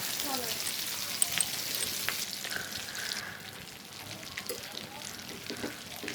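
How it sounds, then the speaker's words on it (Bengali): Round potato slices, already boiled, frying in white oil in a pan, giving a faint, steady sizzle with small crackles and occasional clinks as pieces are laid in one by one. "তাওয়ায় সাদা তেল দিয়ে দিলাম আমি আগে চাকা চাকা করে আলুগুলো রেখে দিয়েছিলাম সেটাই আমি দিয়ে দেব কড়াইতে এক এক করে"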